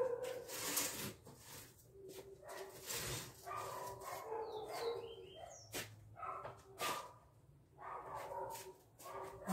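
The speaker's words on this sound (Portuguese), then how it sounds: "Ai, os cachorros tão bravos" Dogs at a house bark in repeated, scattered bursts at moderate distance, fairly faint, with birds chirping in the background.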